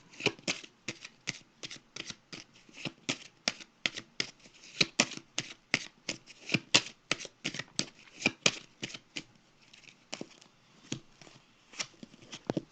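Tarot cards being shuffled by hand, a long run of quick crisp riffling flicks in an uneven rhythm, close and fairly quiet with no talking.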